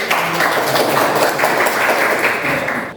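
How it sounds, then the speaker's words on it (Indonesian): Classroom applause from a group of chemistry students, a dense steady patter of many hands clapping together for about three seconds, fairly loud and close, fading slightly at the end. "kasih aplaus dulu untuk"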